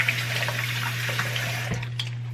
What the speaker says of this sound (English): I'm going to dump all of this dirty water out.